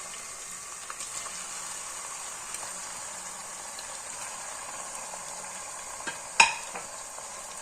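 Chicken fried and stirred in a karahi for chicken karahi, a faint steady sizzle with occasional soft scrapes and one sharper clink near the end.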